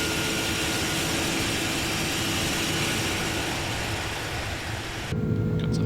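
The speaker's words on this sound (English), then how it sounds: "Hear the roar of those engines now." Jet aircraft engines roar in Microsoft Flight Simulator 2024 over Tokyo, Japan: a loud, constant, broadband drone that cuts away abruptly near the end to a quieter, different engine tone.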